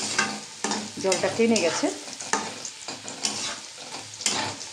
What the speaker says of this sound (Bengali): আর এবার একটু নেড়ে দিতে হবে